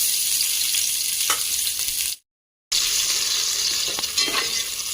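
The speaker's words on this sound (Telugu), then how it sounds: "ఇప్పుడు ఉల్లిపాయలు ఫ్రై చేసుకున్నాం" Sliced onions fry in about three spoons of hot oil in a pan, giving a loud, steady sizzle with occasional stirring scrapes, cut by a brief moment of silence midway.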